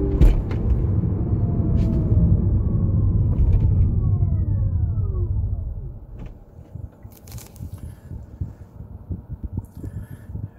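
MG ZS EV electric car slowing to a stop in level 3 one-pedal regenerative mode, a loud steady road rumble with a falling motor whine that dies away after about six seconds, leaving faint bumps and knocks.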